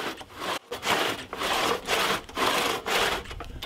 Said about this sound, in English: So I started to chase the cut around the stump.